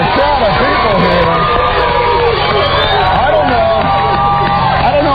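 A large crowd gathered in Sacramento for a live morning radio broadcast cheers and whoops. The many overlapping voices make a loud, continuous roar close by.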